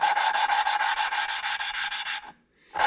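Engine valves are lapped into a 2.4 Ecotec cylinder head with lapping compound, a loud rhythmic gritty grinding that pulses back and forth about a dozen times, pauses briefly, then resumes.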